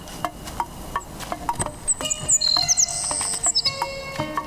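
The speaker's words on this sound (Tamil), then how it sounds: "என்ன குருவி இது? கேட்குது ஆனால் பார்க்க முடியல." Bird song outdoors: several bright, clear whistled notes and chirps come in a short burst of phrases midway, moderately close and fairly loud over a faint background hum, with no talking.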